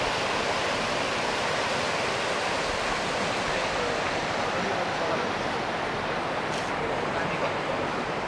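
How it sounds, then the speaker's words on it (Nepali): The Arun River flows broadly past a Manokamana temple compound in Nepal's Arun Valley, a loud, steady rushing roar of water that fills the whole stretch without a break. "यो नदी चाहिँ अरुण नदी हो।"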